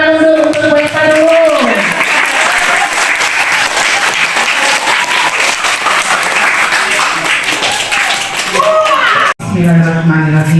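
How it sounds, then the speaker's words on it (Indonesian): Children and an audience at a school Maulid Nabi celebration clap loudly and continuously for several seconds, with a voice speaking over the start and end. "Ayo tepuk tangan dulu"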